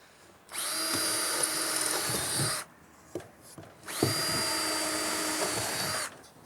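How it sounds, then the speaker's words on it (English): A power drill bores holes through roof slates for fixing to a batten, two sustained whirring bursts of about two seconds each with a short quiet gap between, loud and close. "we need to drill 2 holes so that we can secure them into our first batten"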